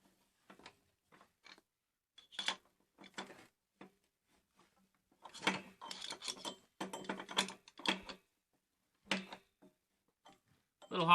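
A tool snugging a threaded fitting onto a water heater so its rubber washer seats, giving intermittent ratcheting clicks and metallic turning bursts with pauses, close and fairly clear.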